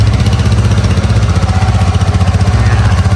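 A GPX motorcycle engine idles steadily up close, a loud, even, throbbing putter that holds a constant pace throughout.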